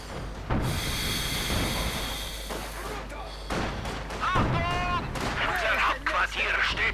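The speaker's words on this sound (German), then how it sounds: "Quartier steht unter feindlichem Beschuss" Enemy gunfire and artillery shelling pound an HQ in the video game Company of Heroes 2: bursts of shots and booming blasts come in uneven clusters, with a German voice speaking over the battle.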